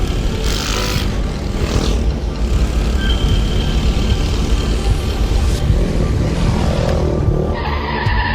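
Motorcycle engine in a road safety advertisement, heard as a loud, continuous roar with tire skidding and squealing throughout.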